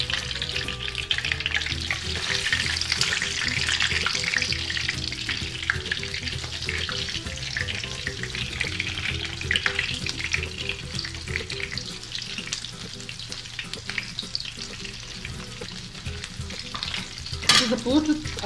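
Breaded kashkaval cheese fries in hot oil, a steady close sizzle with bubbling crackle and faint handling noises, ending in a sharp clink near the end.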